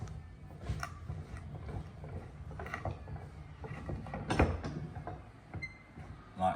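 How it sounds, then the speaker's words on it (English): A wooden bench hook is set into a woodworking vise during a carpentry lesson on cutting cross, mitred and corner halving joints, giving soft mechanical clicks and knocks, with one sharp wooden clunk partway through and a small knock near the end. "The next thing is to place your bench hook into the vise."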